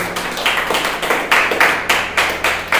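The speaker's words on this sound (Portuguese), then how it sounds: "As palmas louvam o nome do Senhor Jesus." A church congregation claps hands in praise, a steady, rhythmic beat of many palms striking together in unison at a moderate tempo, filling the room fairly loud with no talk over it.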